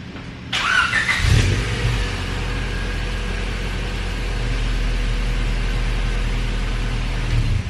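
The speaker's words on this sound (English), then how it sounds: "So let you hear it start up." A 2000 Honda Civic Si with a K20A engine, heard from outside, cranks and fires up with a brief rising rev, then settles into a steady, low idle rumble that holds to the end.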